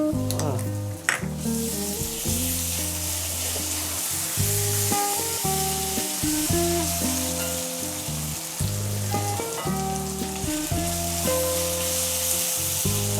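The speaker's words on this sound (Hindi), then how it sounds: "अच्छे से थोड़ा भून सौते करके" Ginger garlic paste, two spoonfuls, sautéing in hot oil for a Bengali tel koi fish curry: a continuous crackling sizzle with stirring, running under steady background music.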